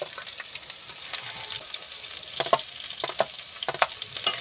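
Green chillies stir-fry with onion and garlic in hot oil. A soft, continuous sizzle runs under irregular scraping stirs that grow more frequent toward the end, with no talking.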